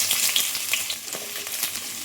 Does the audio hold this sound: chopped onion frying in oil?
yes